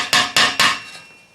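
Three sharp metallic blows from a straight flat-faced planishing hammer on steel greaves ring out close and loud, evenly spaced, each decaying quickly, followed by a fading tail of quiet.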